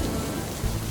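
Steady cartoon rain falls from a passing cloud in a 2D animated Peppa Pig scene, a continuous soft patter of drops with a faint low rumble beneath it, unbroken and fairly close, with no talking.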